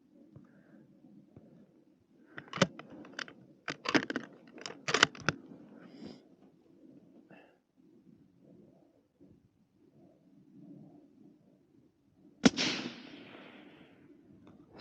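A suppressed Remington 700 rifle in .223 fires at long range, one sharp, loud crack with a short decaying tail that follows a scatter of quieter clicks and taps over a low, faint background.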